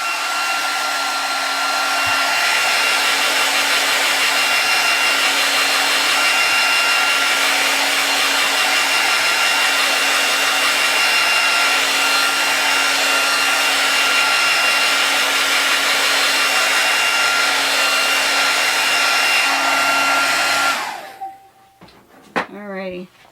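Hair dryer blows steadily at close range over an art journal page for about twenty seconds, then switches off, leaving brief handling noises and a voice.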